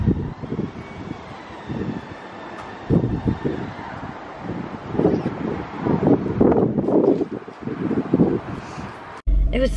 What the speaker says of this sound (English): It was so windy out there.